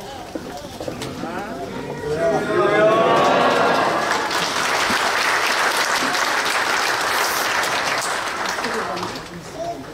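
A church congregation at a 70th-anniversary thanksgiving service applauds to welcome a speaker, with loud, dense clapping that swells after a couple of seconds, holds steady and then fades, mixed with murmuring voices from the crowd.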